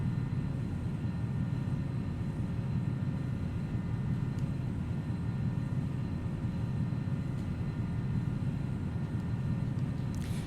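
Challenger 300 business jet climbing in the X-Plane 11 flight simulator over the Rocky Mountains, a steady, dense engine roar and rumble that holds constant throughout without speech.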